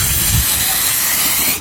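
Gas hissing out of an inflated balloon, a loud, close, continuous steamy hiss that runs unbroken and cuts off abruptly at the end, with no talking over it.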